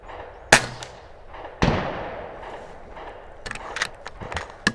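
FX Leopard air rifle fires two sharp, distinct shots at a target roughly a second apart, each followed by a brief ringing tail, with faint clicks and handling noises afterward.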